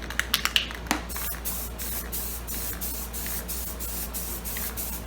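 A few short spray bursts, then a steady hiss as a heavy coat of Rust-Oleum paint is sprayed over a bare metal license plate, close and fairly quiet with no voices.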